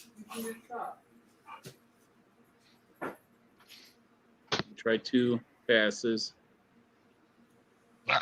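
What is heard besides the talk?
dogs whimpering and barking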